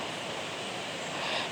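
Water is poured into chicken masala gravy in a pan, giving a steady, full hiss and rush of liquid that holds evenly for the whole moment, without voices.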